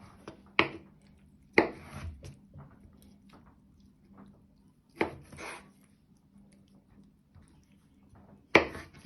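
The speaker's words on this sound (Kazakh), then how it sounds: "Тұздалған қиярымызды ұзыннан бөліп, осылайынан жіңішкелеп пластик жасап аламыз да, оны да төртбұрыштап тураймыз." A knife chops pickled cucumber into small cubes on a board, giving a few sharp, separate cuts spaced well apart against a quiet background.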